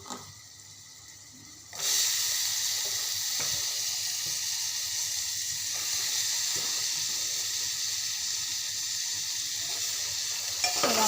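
Boiled guar bean pods dropped into a hot pan, starting a loud, steady sizzle after a quiet moment that continues for the rest of the stretch with faint stirring ticks.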